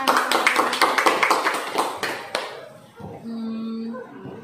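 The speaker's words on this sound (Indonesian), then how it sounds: "Tepuk tangan untuk kita semua." Audience at a school literacy learning-community session clapping hands in a brief burst for roughly two seconds, then fading into quiet room sound with a faint voice.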